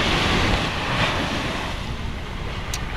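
Sea waves wash steadily onto a beach as a continuous broadband surf roar, close and fairly loud, with wind buffeting the microphone and no talking.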